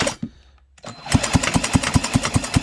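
After a brief pause, a small McCulloch 91 kart engine is spun over by a power drill with a quick, regular chugging rhythm, evenly pulsing and close up.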